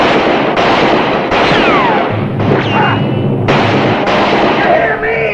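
Loud, dense gunfire in a western shootout, with repeated sharp cracks and booms blending into constant roar, shots arriving in quick bursts over several seconds, with faint ricochet whines.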